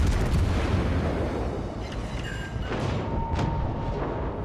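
Naval gun salvos boom from the USS Baltimore cruiser in a warship battle game, a dense rumbling wash of cannon fire with a few sharper bursts layered over continuous low roar.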